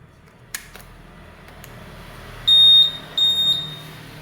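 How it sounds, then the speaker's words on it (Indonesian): Motorcycle smart key SCU plugged back into its socket gives two short high electronic beeps in a quiet room, preceded by a couple of faint clicks. "terdengar bunyi tit"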